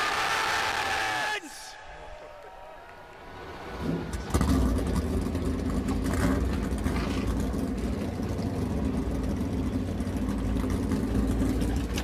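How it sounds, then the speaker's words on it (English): Race car engines at Daytona for the 2023 Bluegreen Vacations Duels fire up after a brief lull, then settle into a loud, steady mass of idling and rumbling engines that continues to the end, with crowd and announcer noise beneath. "start your engines!"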